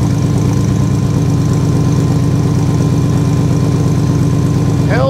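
The engine of a Toyota MkII Supra, newly built and running on a Holley Dominator ECU, idles in a loud, steady, close rumble that holds through the whole stretch.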